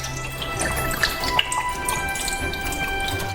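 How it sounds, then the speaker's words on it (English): Fluid from a jar of apricots draining and dripping into a container in a kitchen, a steady trickle with scattered close drips and splashes, with no talking. "drain out all the unnecessary fluid"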